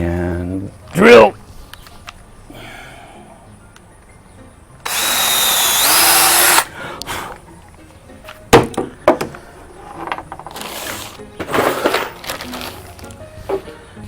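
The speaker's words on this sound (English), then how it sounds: "And drill." A power drill bores into cumaru hardwood decking in one loud burst lasting under two seconds, set among scattered knocks and handling clatter, with a voice speaking nearby.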